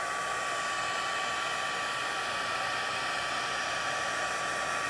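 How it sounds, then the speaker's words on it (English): A craft heat tool blows steadily on its low setting over a paper page, giving a continuous, even, loud whooshing hiss that holds unchanged throughout with no talking. "So I'm gonna set that with my heat tool."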